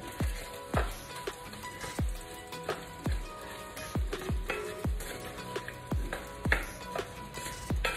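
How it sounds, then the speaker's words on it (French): Fish, chili and okra fry steadily in a pan, a soft crackling sizzle punctuated by repeated sharp pops roughly every half second, close and fairly quiet with no talking. "Je vais laisser frire"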